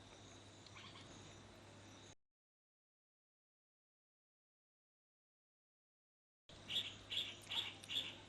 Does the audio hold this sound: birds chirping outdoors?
yes